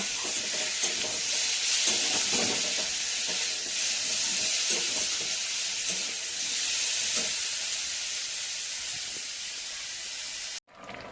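Bengali fish curry simmering and sizzling in a pan, a steady close hiss with scattered stirring scrapes throughout, ending abruptly.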